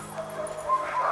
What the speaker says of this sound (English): All the dogs here are very social